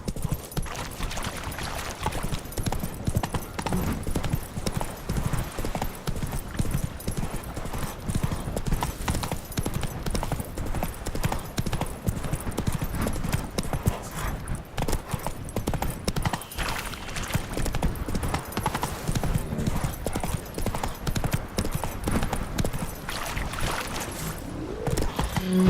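Horse hooves clip-clop steadily on the ground while riding in The Witcher 3: Blood and Wine, a loud, continuous rhythmic trot that runs the whole time with a low game ambience underneath.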